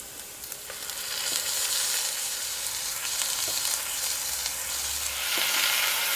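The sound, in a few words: beef browning in a pan with onion and garlic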